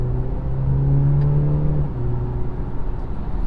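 2019 BMW 330i engine in comfort mode, a steady moderate hum from inside the car with a brief rise in pitch mid-way, then settling back to a smooth drone.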